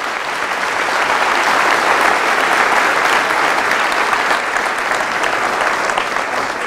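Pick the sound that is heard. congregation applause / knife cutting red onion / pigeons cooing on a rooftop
congregation applause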